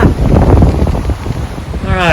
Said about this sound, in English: it's windy out here on the lake today.